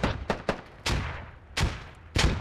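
Grenade blasts in a video game firefight, frags thrown from both sides: five sharp booming bursts in quick irregular succession, loud and close, each with a short rumbling tail.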